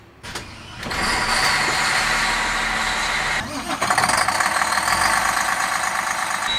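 A luxury motorhome coach with an air ride system starts up: a brief crank, then a steady diesel idle that swells to a louder, rougher rumble partway through, close and continuous.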